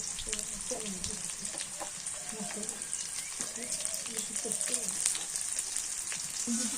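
Green chilies fry in hot oil in a pan, a constant close crackling sizzle with occasional stirring, while someone talks over it.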